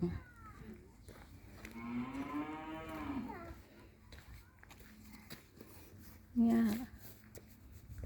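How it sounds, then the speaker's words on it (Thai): Dairy cows low on a small farm in Germany, one long drawn-out moo near the start and a shorter, louder one later, close by, with someone talking at times and barn noises around. "นี่เป็นวัวพันนม"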